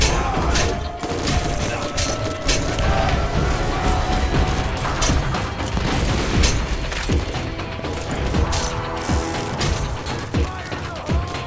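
A grenade explodes on contact in Borderlands, a booming blast inside a loud, busy stretch of gunfire, clanks and mechanical rattles that runs without a break.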